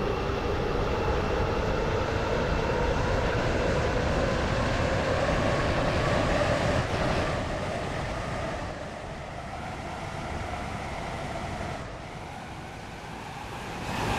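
A Class 707 train runs on the Roblox Stepford County Railway, a continuous loud rumble and hum of wheels and motors that eases slightly in the second half as it slows, with no talk.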